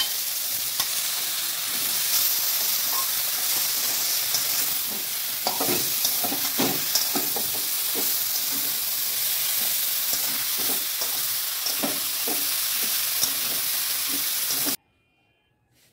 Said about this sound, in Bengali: তারপর সবগুলি দিয়ে দেবো মাছের তেল, আলু, বেগুন, কাঁচা লঙ্কা